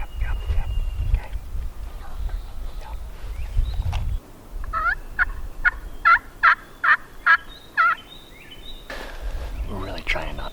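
Out on a windy Kansas turkey hunt, a series of rapid gobbles and yelps from wild turkeys ring out at mid distance between gusts of wind rumble and quiet voices.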